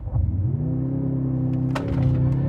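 A new Mercedes C63 launches hard from a standstill on a 0 to 60 run, its engine note climbing into a loud, steady rising drone with a brief shift-like interruption partway through.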